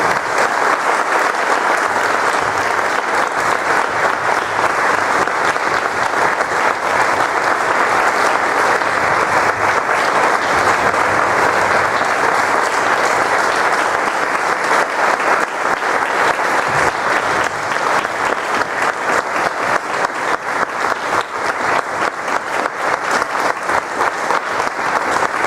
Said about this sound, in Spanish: Damos un aplauso al Señor